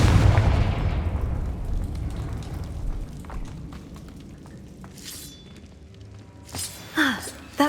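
A Confringo fire spell blasts in Hogwarts Legacy on PS5, opening with a loud, booming explosion whose rumble and debris decay over several seconds, followed by fainter crackles and small impacts near the end.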